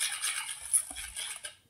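Eggless Christmas cake batter being mixed in a bowl, with a soft scraping, clinking stir of a utensil against the bowl sides, fairly quiet and continuous, no talking.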